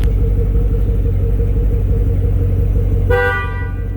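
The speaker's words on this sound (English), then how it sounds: "There's our double honk." A 2013 Chevrolet Camaro with a 6.2L V8 and six-speed automatic sounds its horn up close and loud, the honk cutting in near the end over a steady low engine rumble.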